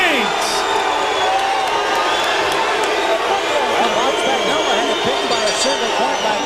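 A 1998 boxing arena crowd reacts after a unanimous decision is announced, a loud continuous roar of mixed cheers, whoops and babble that fills the space throughout, with voices within it.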